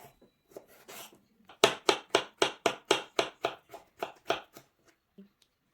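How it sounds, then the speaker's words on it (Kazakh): A knife chops ripe avocado on a cutting board for a salad in quick, rhythmic close-up strikes, about a dozen even cuts in a row after a few lighter taps, with no talking. "Авокадоны майдалап турайып аламыз."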